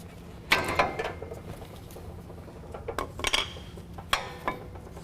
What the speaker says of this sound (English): Then from here, we can take our brake pads off.